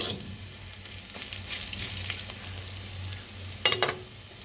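Dried red chilies and garlic fried in oil, a continuous close hiss of sizzling with a sharper clatter of stirring toward the end.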